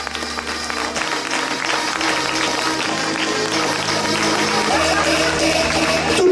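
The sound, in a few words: audience applause at fashion show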